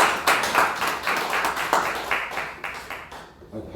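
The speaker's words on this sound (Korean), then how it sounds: "우리 하나님께 영광의 박수 올립니다." Congregation clapping during a March 1st Independence Movement Day joint worship service at a church in Jochiwon, steady moderate applause from many hands that thins out toward the end.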